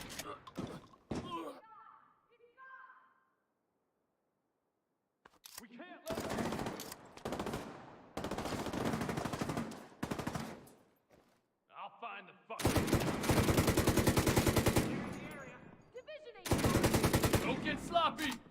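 Shotgun fire in The Division 2 sounds in loud heavy bursts across the second half, mixed with scattered thuds and other game effects, while someone talks between shots.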